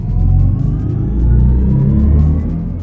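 A BMW i4 electric car pulls away under strong acceleration, a steady low drive hum and rising road and tyre rumble held loud and close throughout.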